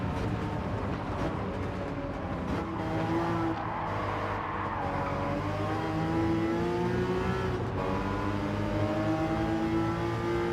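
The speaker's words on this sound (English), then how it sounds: "That car sounds so cool." Race car engine in Gran Turismo 7 revving steadily and loudly throughout, its pitch rising and falling with gear changes in an online daily race lobby, with no talk over it.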